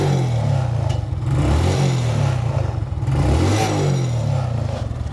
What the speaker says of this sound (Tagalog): So yan na yung andar na ating motor.